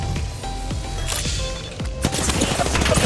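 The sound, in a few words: gunfire in the video game Apex Legends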